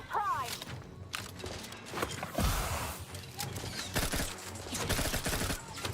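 In The Outer Worlds 2, a weapon fires in sharp bursts and single cracks amid game effects and footsteps, with a player talking over parts of it.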